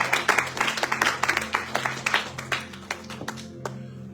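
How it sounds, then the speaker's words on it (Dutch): Applause from a congregation at a Dutch-speaking weekend church service, dense clapping that gradually thins out and fades over a few seconds, with a steady low hum underneath. "Geef hem dan een applaus op deze middag."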